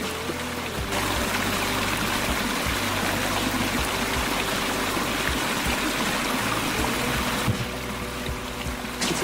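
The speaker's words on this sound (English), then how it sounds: "Come check out the waterfall." Steady rushing water from a waterfall in Grand Mesa National Forest roars continuously and close, a broad unbroken wash of falling water.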